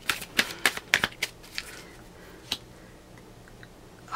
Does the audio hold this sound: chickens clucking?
no